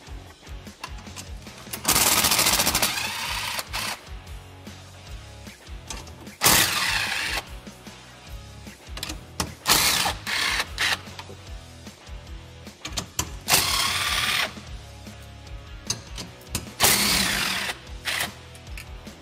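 Power tool spinning off the eight nuts that hold a Polaris RZR Pro XP seat base to the frame, in loud bursts of a few seconds each, separated by quieter clanks and handling.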